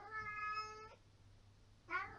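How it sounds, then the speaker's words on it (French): A cat meows twice, a long drawn-out, unusual-sounding cry followed after a pause by a shorter one, close and fairly quiet in an indoor room. "C'est la première fois que j'entends miauler comme ça."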